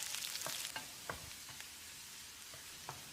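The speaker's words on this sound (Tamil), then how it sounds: "இதை செவந்து வர்ற அளவுக்கு வதக்கிடலாம்" Onions sizzle and crackle in hot oil in a pan, with occasional scraping stirs and soft clicks, close and quiet, no voices.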